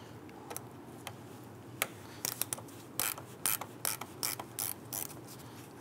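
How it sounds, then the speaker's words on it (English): A gear ratchet wrench with a 10 mm socket loosening a battery terminal bolt on a 2002–2008 Dodge Ram 1500, heard up close as quiet scattered clicks that build into a quicker burst of ratcheting strokes. "we're going to use our 10 millimeter socket on our gear wrench"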